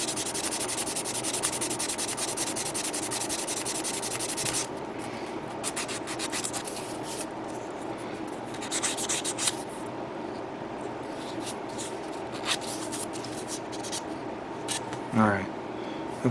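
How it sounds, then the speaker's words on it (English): Sanding a small plastic part from a Yamato Fleets mini model kit, a steady dry rubbing scrape that runs continuously through the first few seconds, then continues more faintly with occasional brief scratches and handling clicks, close to the microphone. "Maybe I should finish sanding it first"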